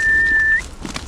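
A person whistles a single long steady note outdoors on a humid day in the province, near and fairly loud, breaking off after about half a second into quiet ambient air and a faint rustle.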